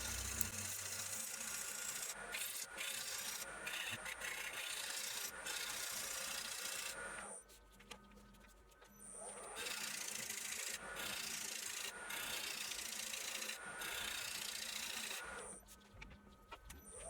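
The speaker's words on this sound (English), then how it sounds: "I decided to break out my homemade negative rake scraper for the outside of this." Continuous rasping scrape of a homemade negative rake scraper cutting the outside of a spinning wet spalted maple bowl on a lathe, in long passes with brief pauses between, close and steady with no talking.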